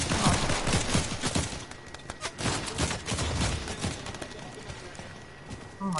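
Rapid bursts of gunfire crackle across the scene in a dense, uneven rattle of many shots, loud and close throughout.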